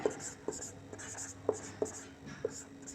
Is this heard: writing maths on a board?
yes